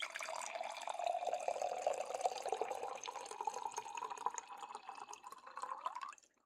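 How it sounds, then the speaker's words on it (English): Water pours steadily from a jug or bottle into a glass in a quiet room, a continuous close trickle that slowly rises in pitch as the vessel fills, then stops abruptly. "Grab my water. A little bit of ASMR water for you."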